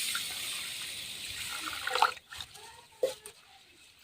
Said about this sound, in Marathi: आता आपण स्वच्छ धुवून घ्यायचे आता तांदूळ